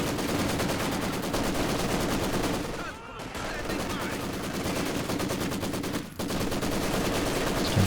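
MG42 machine gun fire in Company of Heroes 2, a 4v4 match: sustained rapid automatic bursts rattling almost without pause, loud and dense, with a brief break midway and a voice speaking faintly beneath.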